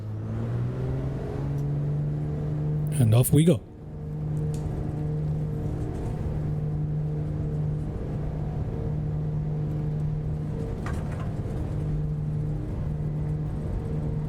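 A Black Square Piston Duke twin piston engine drones steadily through its takeoff roll in MSFS 2024, a loud sustained harmonic hum with a brief sharp burst near the start. A voice speaks briefly over it.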